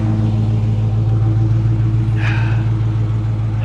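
A repo car's engine idles steadily at close range, a loud, even low rumble with a constant hum and a brief faint squeak midway.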